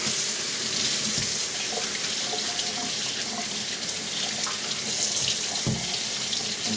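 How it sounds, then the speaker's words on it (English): Running kitchen sink tap with water splashing over two lemons being washed, a steady close rushing stream with no talking. "take your lemons, I only have 2 right now, but I'm sure it'll work, and wash them in the sink."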